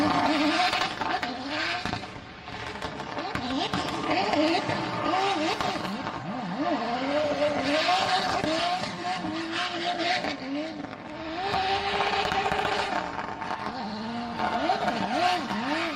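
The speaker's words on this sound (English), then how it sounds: "You could hear it start to bog. You could hear it fall out of boost, and then he wakes it back up." A big turbo car engine bogs at low revs and falls out of boost, then roars back up, a loud and continuous drone with pitch sweeps lasting throughout.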